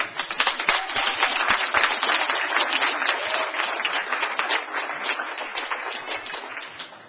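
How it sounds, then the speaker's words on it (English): An audience at a graduation ceremony applauds family members and parents, a close, lively burst of many hands clapping that stays fairly even before thinning slightly toward the end. "I want to begin by applauding the family members and parents who are in our audience today"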